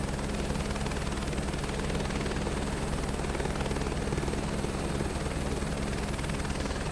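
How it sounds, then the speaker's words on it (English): A helicopter in flight over the Lahaul and Spiti loop produces a loud, steady drone with a constant rotor throb, heard close and unbroken throughout. "Hopefully I can just stabilize this helicopter a bit"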